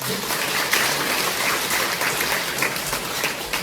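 Sustained applause fills a hall after a speech at a book launch event, a dense, even wash of many hands clapping throughout, with no speech heard.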